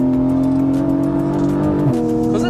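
A Porsche 718 Boxster GTS 4.0 with its naturally aspirated engine and IPE exhaust holds a loud, steady high-rev howl, then the pitch dips briefly before climbing again, close and strong.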